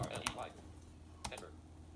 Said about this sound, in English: Let's type my name